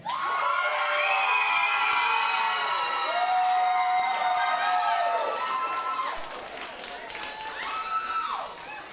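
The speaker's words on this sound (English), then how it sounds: "By round of applause. Let's hear it for Team Tits." Burlesque show audience in St. Louis cheering loudly with whoops and high shouts over applause, sustained for several seconds before fading, then rising again briefly.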